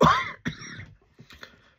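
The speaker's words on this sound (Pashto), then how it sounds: "ډېر بخښنه غواړم دا زما ټوخی چې دی د علاج نه کېږي" A loud, harsh cough bursts out, followed by a second cough and then a couple of softer, rougher throat-clearing coughs trailing off.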